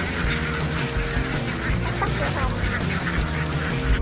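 Ducks crossing a road quack in short bursts amid a dense, steady bed of traffic and outdoor noise.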